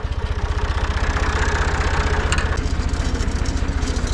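A Massey Ferguson 255 tractor engine chugs steadily at idle while gathering clover, a loud low rhythmic thrum with a faint higher rattle riding on top.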